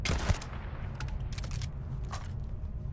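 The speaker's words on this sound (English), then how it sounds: "We keep hearing a lot of gunfire around here." Gunfire in the Starfield video game, an opening burst of sharp shots followed by scattered distant bangs over a low rumbling background, fairly faint and with no talk.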